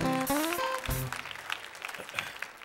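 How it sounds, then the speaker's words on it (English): Theater audience applauding at a comedy show, a dense patter of clapping that starts under a sung or shouted voice and continues on its own, gradually thinning out. "Give him a big round of applause."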